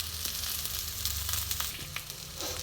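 Vegetables sizzle loudly in a pan on a lowered flame as a little water is added for a Bengali fish and vegetable dish, giving a steady close hiss with faint stirring clicks.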